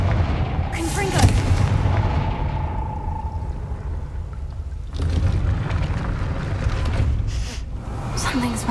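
Confringo blast spell going off in Hogwarts Legacy, a heavy explosive boom followed by a long rumbling tail, with a second burst of blasts several seconds later and a brief spoken line near the start.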